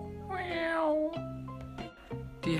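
A human voice imitates an ordinary domestic cat's meow, a drawn-out rising and falling mew followed by a few shorter mewing calls, close and clear.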